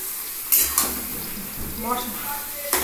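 A spatula stirs chopped taro leaves into lightly fried chickpeas in a pan, giving scraping clinks and a few sharp knocks over a soft, steady sizzle, with faint voice-like sounds in the background.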